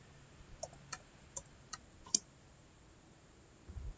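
Keystrokes on a computer keyboard while a command is entered in a Linux terminal: a sparse run of light, separate clicks, fairly quiet, with no talking.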